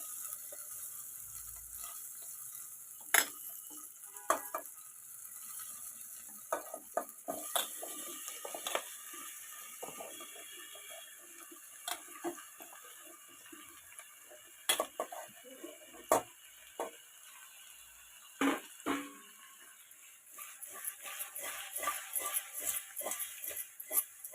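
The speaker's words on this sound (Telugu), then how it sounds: "ఇప్పుడు గుమ్మడికాయ ముక్కలు వేసుకుందాం. ఇట్లా వేగితే సరిపోతుంది." Pumpkin pieces frying in a pan for a Sankranti pumpkin pulusu curry, a soft steady sizzle broken by scattered clicks and taps of stirring, with a brief burst of rapid scraping near the end.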